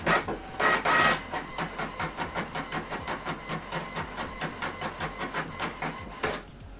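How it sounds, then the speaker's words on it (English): A printer runs alone printing double-sided black-and-white pages in a quick, steady mechanical rhythm of repeated feed-and-print strokes, with a couple of louder whirring bursts near the start and end. "So we are printing double-sided, black and white, or monochrome if you like."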